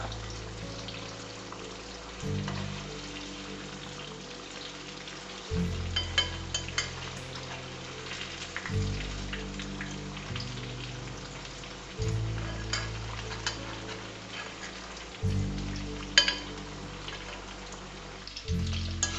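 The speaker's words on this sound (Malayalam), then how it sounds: "അങ്ങനെ എല്ലാ ചിക്കനും വറുത്തെടുക്കുക." Steady crackling sizzle of chicken frying in hot oil, Kerala style, with occasional sharper pops and clinks over a continuous low hum.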